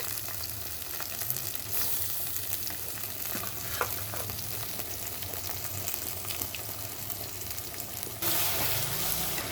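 Cut potatoes and ginger-garlic paste fry with onions in a pan, making a continuous sizzling hiss with occasional stirring clinks, and the frying grows louder near the end.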